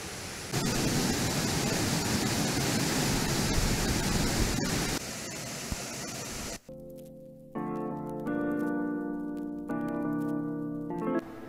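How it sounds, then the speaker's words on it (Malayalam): Mauvanal waterfall at Thekkumpad, Ramanthali, swollen after heavy rain, roars as a dense, steady rush for about six seconds. Music then replaces it. "കനത്ത മഴയിൽ നിറയെ വെള്ളം ഒഴുകിയെത്തുന്നതാണ് ഇതിൻ്റെ കാരണം."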